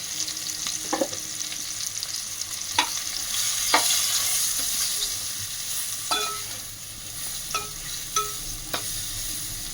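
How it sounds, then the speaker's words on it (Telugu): Mushrooms with turmeric frying in oil, a steady hiss of sizzling with occasional sharp scrapes and taps as a spoon stirs them in the pan. "ఆయిల్లో ఫ్రై చేసుకున్నానండి"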